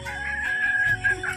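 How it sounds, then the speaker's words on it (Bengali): A rooster on a village chicken farm crows once, a loud, drawn-out call near at hand over faint clucking from other hens. "এই দেখো মুরগি, কত মুরগি, ওই দেখো কত মুরগি আমাদের এগুলো।"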